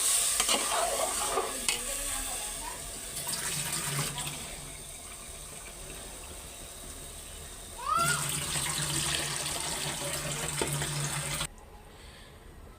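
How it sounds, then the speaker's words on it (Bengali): Cold water is poured into rice frying in a pan, and a loud watery hiss and gush come in two bursts, mixed with stirring scrapes. The sound drops away abruptly near the end. "এখন পানি দিয়ে দিব"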